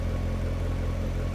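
A 2015 Chevrolet Corvette Stingray 3LT idles with a steady, low exhaust burble heard close up from behind the car, even and continuous with no talking.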